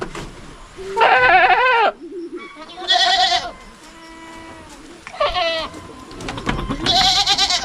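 Several loud goats bleat in turn on a rural Filipino farm where goats are raised for sale and slaughter, with four separate wavering cries spread across the clip and a quiet background between them.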